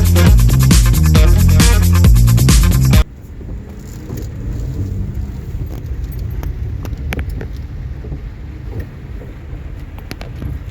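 Car on the road heard from inside, a steady rumbling engine and road drone with wind noise and occasional rattles, preceded by a few seconds of loud music.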